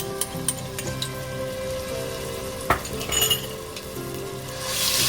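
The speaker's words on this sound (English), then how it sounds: "I'm adding the ginger and garlic paste." Ginger and garlic paste sizzling in hot refined oil in a thick-bottomed pan, with a few clinks of a utensil against the pan before a brighter burst of sizzle at the end.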